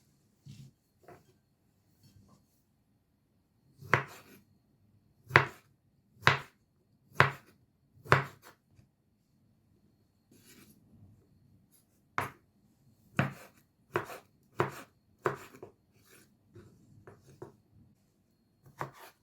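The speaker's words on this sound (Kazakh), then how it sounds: "Қазір бәрін ұсақтап турап аламыз." A knife chops beetroot firmly on a cutting board in two bursts of quick, evenly spaced strokes, separated by a short pause, close and clear with no talking.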